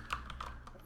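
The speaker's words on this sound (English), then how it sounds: "if I come in here and type something in here" A computer keyboard typed on in billing software, a few quick, soft key clicks in a brief burst, close and quiet with no speech.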